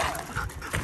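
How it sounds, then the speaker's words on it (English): Sled dog during training whimpering and panting close by, a short burst of quick breaths and soft whines with no talking. "I raised this dog so he gets a little jumpy around me too."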